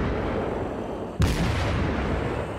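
In World of Warships, a battleship's main guns fire once as a sharp, heavy boom over a steady background rumble of the naval battle, with no talk.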